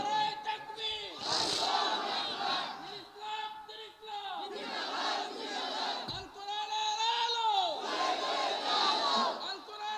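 A large congregation at an outdoor religious sermon chants a loud takbir response in unison, two swelling waves of massed voices with a preacher's voice between them.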